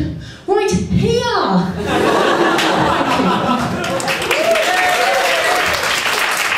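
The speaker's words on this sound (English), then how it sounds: "I never get a clap for that" A comedy-club audience at a student stand-up award show bursts into loud clapping mixed with chuckles and laughter, sustained and close, with a voice speaking over the noise near the start.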